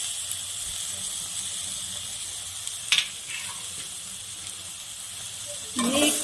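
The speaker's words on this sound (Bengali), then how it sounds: "মশলাটার মধ্যে আলু আর সজনে ডাঁটাটা দিয়ে দিচ্ছি।" Potato and drumstick pieces go into frying spice paste, giving a low steady hiss with a sharp burst of sizzle partway through and another rising splash of sizzling at the end.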